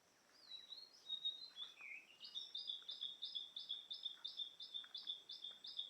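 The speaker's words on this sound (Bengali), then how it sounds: "এখানে কিছু পাখি ডাকাডাকি করছে" Birds call from a riverbank after heavy rain, a thin, high chirping phrase that settles into a rapid, evenly repeated series of sharp notes, fairly faint and distant against a quiet background.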